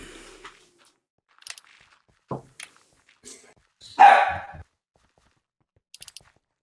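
A wolf in Minecraft gives a single short, loud bark near the middle, with a few faint clicks and small game sounds scattered before and after.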